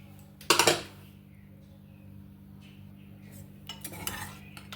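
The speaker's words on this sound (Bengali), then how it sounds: "এবার প্রেশার কুকারটা খুলবো প্রেশার কুকারটা নিজে থেকে ঢাকনাটা খুলে যাচ্ছে তখন আমি খুলছি" Pressure cooker lid opened after cooking mutton vindaloo: a short metallic clatter and scrape near the start, then quiet kitchen hum and a second softer rattle of metal near the end.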